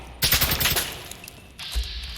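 The MWII Taq-56 rifle in Fallout 4 fires a quick burst of rapid shots, close and loud, followed by a pause and a second short, sharp shot or impact.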